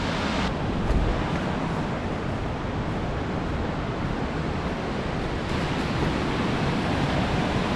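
Elaho River water rushing in and back out beneath holes in the riverside, a loud, constant broadband roar heard alone without pause.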